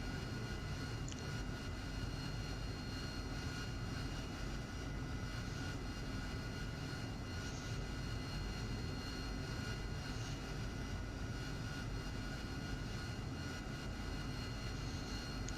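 Continuous roar and whine of an AV-8B Harrier jet engine taxiing in the DCS World flight simulator, steady and fairly close, with no voices or pauses.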